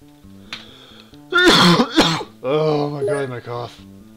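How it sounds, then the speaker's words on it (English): A man coughs and clears his throat a few times over a couple of seconds, close to the mic, during a spoken OpenXcom gaming session with faint talk and game sounds around it. "Cough."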